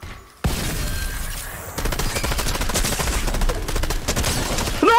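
Rapid bursts of gunfire from a Fortnite solo match crackle loudly and almost continuously after a brief quiet start, dense and close, with other game sounds mixed in.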